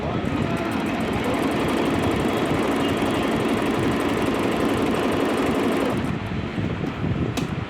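A Singer C5205 electric sewing machine runs steadily while stitching at a longer stitch length, giving a loud, continuous rapid mechanical whirr and rattle that eases briefly near the end.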